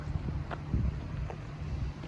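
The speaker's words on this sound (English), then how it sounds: "the wind is really picking up here" Strong desert winds of 50 to 60 mph buffet an RV park, producing a loud, low, rumbling roar with uneven gusty surges across the whole stretch.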